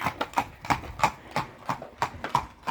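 Steady clip-clop of horse hooves on a hard surface, a regular rhythm of sharp knocks, fairly close and without talk.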